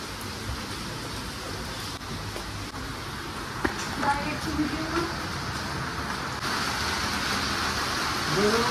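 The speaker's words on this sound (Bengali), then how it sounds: "সুন্দর বৃষ্টি দরকার ছিল, সেই ভ্যাবসা গরম 5-6 দিন ধরে। ভালো লাগছে বৃষ্টি" Steady monsoon rain falling outdoors after days of humid heat, a continuous even hiss close by, with a few faint knocks and a brief low call partway through.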